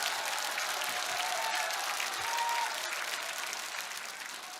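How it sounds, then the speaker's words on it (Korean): An audience at a political speech applauds for a party leader, a dense, steady wash of clapping from a large crowd that holds level and then gradually fades. "우리 고영일 대표 박수 한번 쳐주세요"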